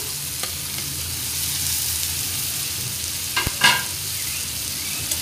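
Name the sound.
sautéing onion, tomato and kokum in a pan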